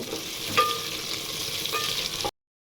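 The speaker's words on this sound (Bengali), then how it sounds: "পেঁয়াজটাকে এখানে নিয়েছি এলাচ তেজপাতা লবঙ্গ দিয়ে সুন্দরভাবে ভেজে নিব" Onion sizzles in hot oil with cardamom, bay leaf and cloves, making a continuous close frying hiss. A couple of sharp scraping stirs of the pan cut through, and the sound ends abruptly.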